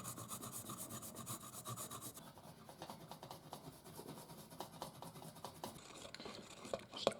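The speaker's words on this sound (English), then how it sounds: "grate in a bit of garlic" Garlic grated against a grater into a honey-sweetened barbecue chicken marinade, heard as a faint, quick rhythmic rasping and scraping that runs for several seconds.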